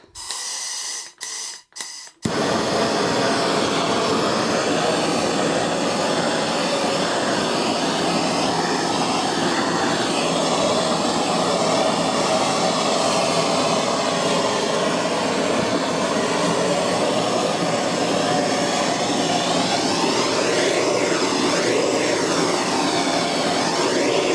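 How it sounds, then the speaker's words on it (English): After a few brief clicks, a blow lamp roars into a loud, steady rushing hiss while burning plastic furniture, continuing unbroken, close and dominant, with no voices. "And all you need is a blow lamp."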